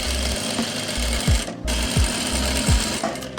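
A sewing machine stitches a Patiala salwar in steady bursts, its rapid needle rattle pausing briefly between runs, close and loud with no voices.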